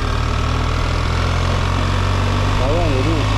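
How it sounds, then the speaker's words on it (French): BMW R 1300 GS motorcycle engine running with its exhaust valves open, a steady loud low rumble throughout with a rising whine near the end, while a voice talks over it. "Là j'ai ouvert les valves de l'échappement."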